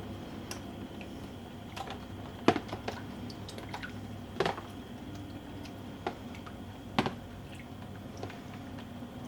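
Yarn soaks in water before dyeing, giving soft, sparse drips and small wet squishes and clicks at irregular intervals, quiet and close with no talk.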